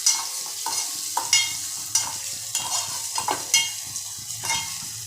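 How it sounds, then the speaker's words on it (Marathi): Onion sautéed in a pan with garlic until reddish, steady frying sizzle punctuated by repeated scraping and tapping strokes of a spatula against the pan, close and clear. "कांदा थोडा लालसर होईपर्यंत त्याच्यात परतवला जाईल"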